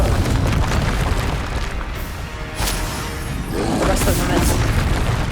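A Confringo blasting-spell explosion in the Hogwarts Legacy video game sets off deep booming crashes that rumble through the short span, loud and close amid other game sounds.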